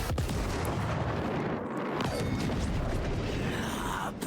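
Artillery barrage in the tactical video game Gears Tactics, a dense continuous roar of blasts and rumbling impacts, loud and close throughout with no talk.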